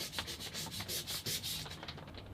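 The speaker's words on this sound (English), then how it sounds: "I'm making sure that the ends of the frets come in for a little bit of a sanding" Guitar fret ends being sanded with 600-grit abrasive paper during a refret: close, steady back-and-forth rubbing strokes in a quick rhythm, with no voices.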